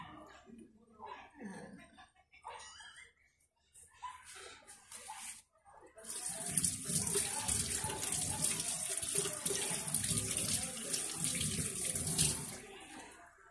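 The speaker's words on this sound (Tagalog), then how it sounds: "Hugas lang po tayo ng kamay mga kaguro kasi po tayo ng ano basahan." Tap water runs steadily into a kitchen sink as hands are washed, a loud continuous rush with splashing that begins partway through after a stretch of quieter clatter and shuffling.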